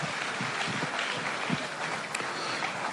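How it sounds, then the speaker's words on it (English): Audience applause at a live event, a steady wash of many hands clapping at moderate distance, continuous for a few seconds with no talk over it. "Round of applause for her again, ladies and gentlemen"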